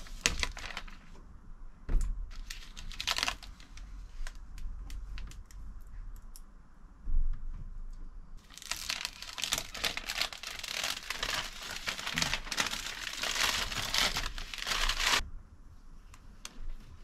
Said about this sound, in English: I've got to take off this plastic sheeting.